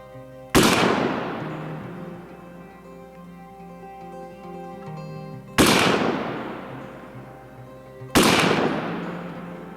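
Three loud rifle shots from a Civil Defense SPR Stoner-clone rifle at a long-range outdoor shooting session. Each sharp crack is widely spaced and followed by a long, rolling echo that fades slowly.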